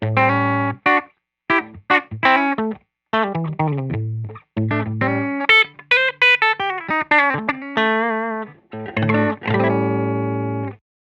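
An electric guitar, a Nash S63 played through a Spruce Effects Black Friday one-knob fuzz pedal into a Benson Amps Monarch Reverb, plays loud, fuzzy, distorted riffs and sustained notes with short pauses between phrases.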